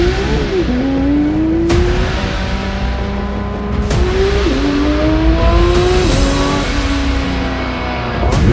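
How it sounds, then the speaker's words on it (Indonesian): A Porsche 911 GT3 992 with a naturally aspirated engine revs up repeatedly, its loud, close howl climbing in pitch and dropping back at each shift over a constant throaty drone. "Porsche 911 GT3 992. Mobil ini nggak punya turbocharge"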